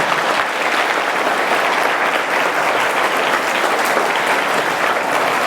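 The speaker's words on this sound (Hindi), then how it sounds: "तो एक बारी सारे अपने लिए तालियां बजा दो" A crowd of schoolchildren claps and applauds steadily at a school Hanuman Jayanti celebration, a dense, continuous wash of clapping held at full strength throughout with no break.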